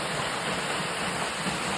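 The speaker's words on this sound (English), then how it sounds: "That's the hidden waterfalls they call." Steady broadband rushing of the hidden waterfall at Fairmont Hot Springs Resort, a continuous even roar close by with no voices over it.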